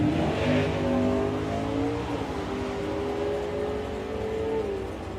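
A Camaro and a Mustang launch side by side at a drag strip, engines howling through rising, shifting revs that sweep upward and then fade slightly as the cars pull away.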